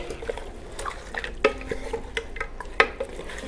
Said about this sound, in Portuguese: para misturar o cheiro verde com toda a carne